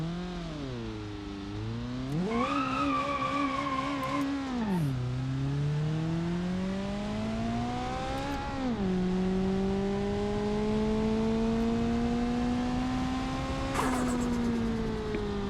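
A twin-charged car in BeamNG.Drive launches from a standstill. The engine revs up, drops back, then pulls hard through long rising gear sweeps with a whining tone, steady and close throughout, and no voices.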